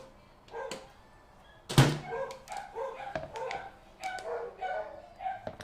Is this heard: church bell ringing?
no